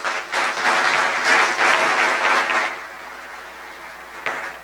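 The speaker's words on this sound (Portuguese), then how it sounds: "pedindo também uma salva de palmas a todos" An audience at a conference panel on solar energy applauds, a burst of clapping that swells and then tapers off, with a few scattered claps at the end.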